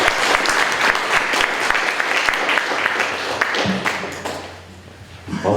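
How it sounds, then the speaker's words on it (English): Audience applause at a ribbon cutting ceremony for a county solar designation, a dense steady clapping crowd that thins out toward the end. "If you'd like to give them a round of applause for these speakers."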